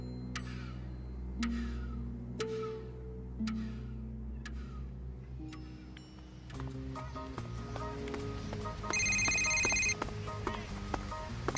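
A telephone rings in a radio drama scene, repeated sharp bell-like tones over a low hum, followed by busier layered chimes and clicks that grow denser toward the end.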